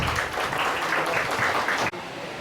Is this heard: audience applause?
yes